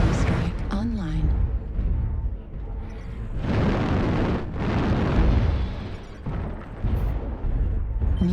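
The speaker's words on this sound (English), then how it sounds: "Artillery strike online." Heavy booming artillery strike explosions in a video game battle, several deep rumbling blasts swelling and fading one after another, loud and close, with speech over them.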